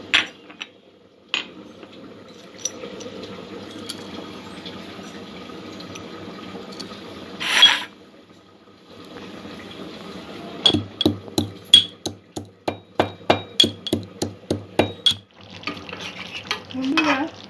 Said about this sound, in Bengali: 3টে এলাচ নিয়েছি, দারচিনি, 3টে লবঙ্গ, একটু জায়ফল, জয়িত্রী, এগুলো একটু পিষে নেব আমি।